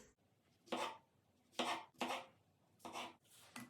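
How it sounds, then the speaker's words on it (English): Fresh mushrooms sliced thin with a knife on a board: about six quiet, separate cuts at an uneven pace, close by, with no talking. "I'll continue with the mushrooms and I'll cut them in thin slices."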